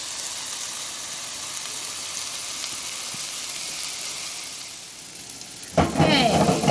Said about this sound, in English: Sizzling chicken.